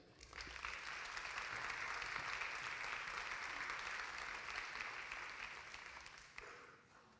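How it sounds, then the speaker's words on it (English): Sustained audience applause fills a lecture hall for a speaker being introduced at an epilepsy and seizures talk, a steady dense clapping that holds for several seconds before tapering off. "Let's give a warm round of applause for Yasmin Pena."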